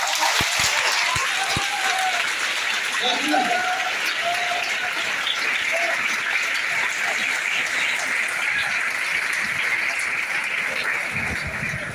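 Hall audience at a Hindi lecture gives sustained applause for about twelve seconds, a dense even roar of clapping with voices and a few louder claps mixed in near the start and end.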